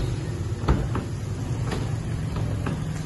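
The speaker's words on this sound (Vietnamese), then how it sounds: "đóng cửa nhẹ nhàng không bao giờ vào." A gentle, unlatched close of the original door on a Kia Morning car, a single soft thud near the start followed by a few light knocks over a low background hum.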